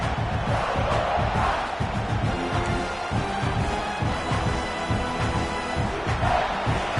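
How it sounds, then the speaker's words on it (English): A large stadium crowd at a football game roars and cheers continuously, loud and sustained, with shouts rising throughout. "It's early, but this crowd is fired up. Listen to this noise here."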